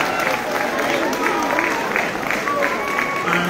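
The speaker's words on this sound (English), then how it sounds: "If we can please give the Columbia Law students a round of applause" Crowd at a New York event applauding Columbia Law students, dense steady clapping with voices and chatter woven through it.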